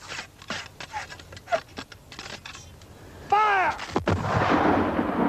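A ragged series of sharp musket shots cracks out, followed by a louder, sustained burst of volley fire with rumbling, crackling noise.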